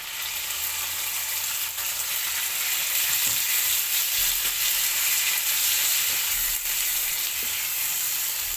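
Pork sizzling loudly in a pan with golden-brown garlic, a dense continuous frying hiss with a few faint clinks of stirring, close and steady throughout, no voices.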